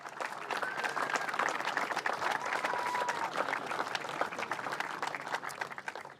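A crowd at the podium of a Castrol Toyota FR Oceania Championship race applauds the third-place driver, with sustained, dense clapping at moderate distance that tapers slightly near the end.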